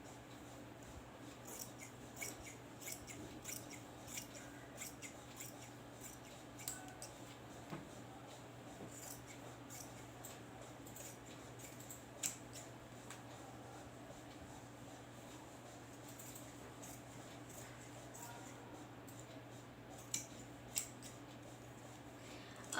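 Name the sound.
scissors cutting kurta fabric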